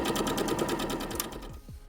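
A Lion 9300S home sewing machine stitches fabric with a fast, even, close-up mechanical chatter that eases off as the machine stops near the end. No speech.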